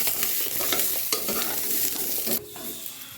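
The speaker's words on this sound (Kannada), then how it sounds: "ಒಂದು ಚಮಚದಷ್ಟು ಎಣ್ಣೆ ಹಾಕ್ಕೊಂಡು ಫ್ರೈ ಮಾಡ್ಕೊಳ್ತಾ ಇದ್ದೀನಿ" Bell peppers fry in a spoonful of oil, a steady close sizzle with scraping stirs and clatter, softening noticeably toward the end.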